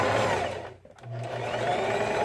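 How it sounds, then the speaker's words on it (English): A loud sewing machine stitching fabric pieces together for a dog tunnel, a close steady whirring hum that briefly pauses mid-clip before running on continuously. "Just start sewing. Make sure you do a back stitch. The machine is pretty loud"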